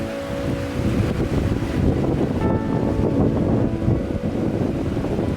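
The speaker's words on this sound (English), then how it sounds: "the wind's blowing pretty good again" Heavy wind rumbles continuously against the microphone by the Pigeon River in northern Minnesota in spring, a dense low roar that barely lets up from start to finish.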